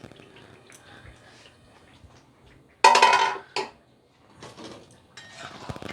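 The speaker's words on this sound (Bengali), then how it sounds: "বন্ধুরা, ঢাকাটা তুলে নিচ্ছি" Lid lifted off a pot of slowly simmered Bengali mutton, a sharp metallic clank and burst of steam hiss, followed by a second clatter and softer kitchen sounds.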